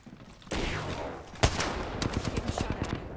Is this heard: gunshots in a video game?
yes